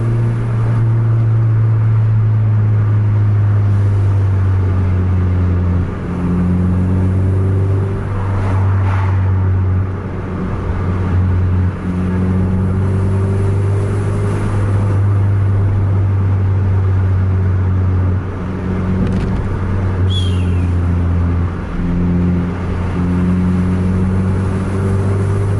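A bus engine revving hard and accelerating on the road, a loud, steady low rumble that rises and falls in pitch as the gears change, heard from inside with no talking.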